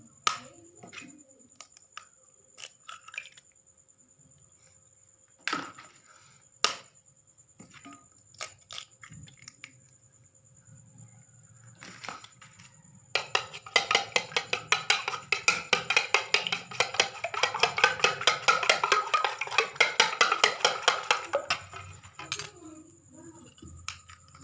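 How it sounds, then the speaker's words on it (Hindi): Three eggs whisked briskly in a bowl with a utensil for a breakfast dish, a dense run of rapid clicking taps building after scattered isolated knocks, close and fairly loud, no talking. "अब हम इसे मिक्स करने लगे हैं तो अब अंडे हम इसमें मिक्स कर लेंगे।"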